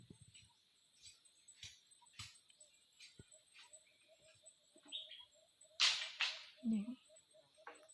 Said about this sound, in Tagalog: Yung huni lang ng ibon yung maririnig mo dito sa bundok.